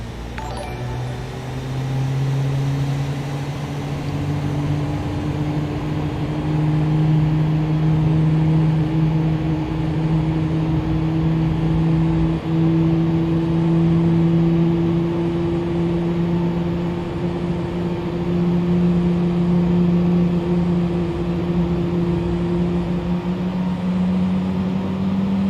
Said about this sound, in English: Can you hear the engines? It's probably going to be too loud in a moment.